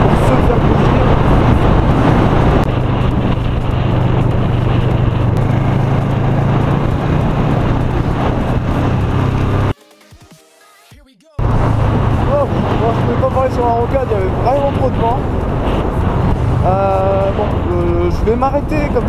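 A motorcycle rides along a road with a loud, steady engine drone and wind rush, broken by a short quiet gap, after which a voice talks over the engine.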